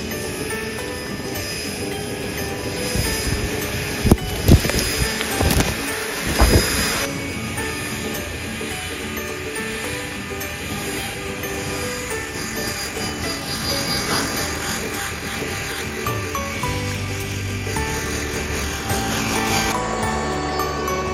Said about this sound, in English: why don't we try this blower and see if we can move around some leaves.